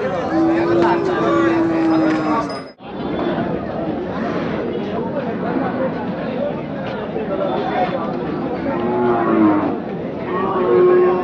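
Cattle lowing with long tonal moos amid a busy outdoor bull market at Chakan, with steady crowd chatter and several people talking throughout; the calls rise clearly above the din a few times.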